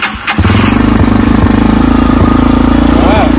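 A TBR7 250 pit bike with a freshly re-jetted carb fires up on choke after a brief crank and settles into a loud, fast, steady idle close by, with a voice talking over it.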